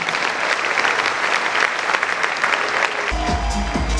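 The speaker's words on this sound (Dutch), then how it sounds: "Nog een keer een applaus voor jullie allemaal." At the Coiffure Award 2012 ceremony, the audience gives sustained applause for the nominees, thick clapping from a full hall, with a low musical tone entering near the end.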